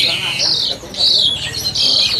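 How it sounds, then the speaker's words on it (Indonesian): Bright, whistling calls of an Asian pied starling repeat in phrases, loud and close, with short gaps between bursts and faint background noise. "Ini jalak suren sudah jadi juga."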